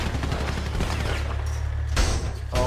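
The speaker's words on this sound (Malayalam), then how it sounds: "ശിവറാം ഇവിടെ താഴെ നിന്നിട്ട് നല്ല രീതിക്ക് ഫയർ ചെയ്യുന്നുണ്ട്." Rapid gunfire in a video game plays loud and continuous as a dense burst of shots, with a sharper blast near the end.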